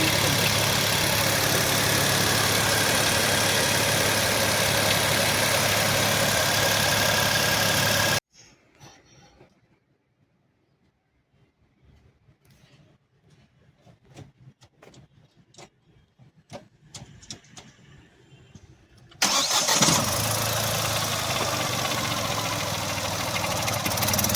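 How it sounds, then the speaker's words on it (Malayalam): A Mahindra 3X0 with a three-cylinder engine idles steadily and loudly, then cuts to near silence with faint clicks and rattles, then returns to the same idle. "ഇനി ഒരു വാഹനം ഒന്ന് സ്റ്റാർട്ട് ചെയ്ത് നോക്കാം എങ്ങനെയാണ് ഈ ഒരു വാഹനത്തിൻ്റെ സൗണ്ട് കാര്യങ്ങൾ എന്നൊക്കെ നമുക്കൊന്ന് നോക്കാം"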